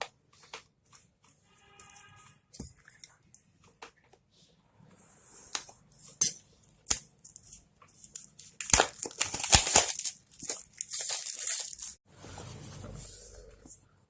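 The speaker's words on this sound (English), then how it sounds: "So now we are going to open this box." A Poco F1 phone box has its seal cut and is opened, giving sparse faint scratches and clicks, then a burst of close crinkling, rustling and tearing of packaging paper and plastic near the end.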